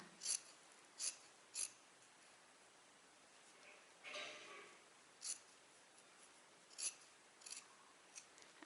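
Scissors snip along the curved hem of a fabric shirt, giving a series of short, crisp cuts in small irregular bursts with a soft rustle of cloth between them, quiet and close with no voices.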